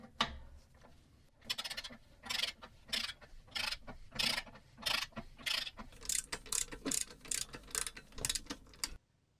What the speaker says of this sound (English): I think I'm just going to start with the torque wrench because it gives me a nice